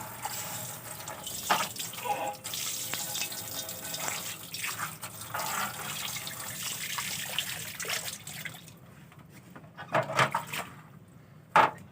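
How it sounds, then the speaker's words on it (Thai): Tap water runs steadily into a sink while a new wok is washed, with splashing and clatter of the pan, then the flow stops and a few scattered knocks remain. "เราก็จะมาล้างใหม่อีกหนึ่งรอบ"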